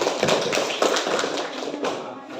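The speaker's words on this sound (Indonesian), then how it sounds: "Tepuk tangan untuk Israel." A classroom of students claps together in a dense, continuous patter of hand claps, fairly close and steady, with a few sharper hits standing out.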